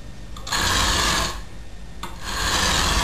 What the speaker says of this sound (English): What I'm doing is grinding out the imperfections that I left in it with the file.